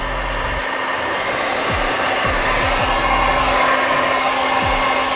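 Heat gun blowing hot air to soften wrap film, a loud steady airy roar close by with faint low clicks and thumps underneath.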